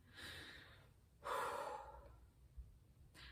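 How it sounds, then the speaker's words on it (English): A single deep breath, a long audible inhale and exhale at close range, heard alone in a quiet room with no talking. "Deep breathe."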